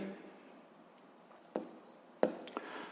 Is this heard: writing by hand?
yes